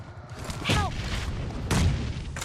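In PUBG Mobile, a grenade explodes as a heavy boom, followed a second later by a second sharp burst over low rumbling game ambience.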